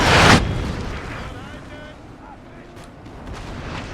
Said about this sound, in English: let's try and see some of these cannon shots coming through